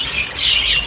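A bird gives a short, harsh squawking call, loud and close, lasting under a second.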